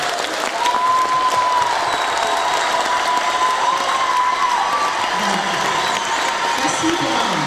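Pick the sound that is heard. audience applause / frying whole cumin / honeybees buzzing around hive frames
audience applause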